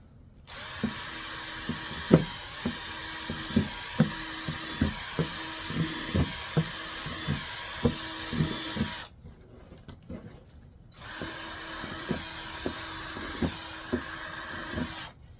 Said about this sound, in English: we need to drill some more holes in here